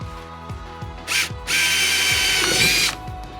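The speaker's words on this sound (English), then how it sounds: "use a 3/8 inch drill bit to create the openings for the well nuts" A power drill with a 3/8 inch bit whirs into a Hobie Mirage Passport 12.0 fishing kayak in two bursts, a short one then a longer sustained run, with rhythmic clicks and knocks underneath.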